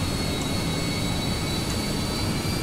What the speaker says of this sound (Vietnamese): cái tiếng gích của máy bay kìa